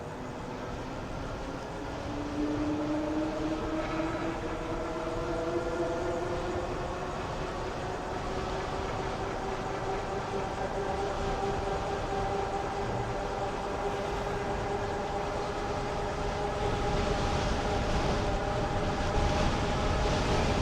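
Euphree Stellar Falcon 2 electric bike's hub motor at full throttle, a steady rising whine that climbs in pitch as the bike accelerates, with constant wind rush throughout and no talking.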